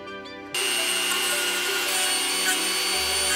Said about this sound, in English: Now I just need a Dremel.